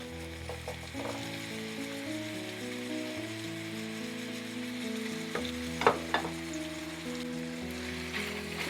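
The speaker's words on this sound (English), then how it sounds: "And then I'm just going to add in the onions." Chopped onions sizzling in a pan with browning ground meat cooked without oil, a steady soft hiss broken by a couple of sharp scraping stirs, with faint background tones and no voices.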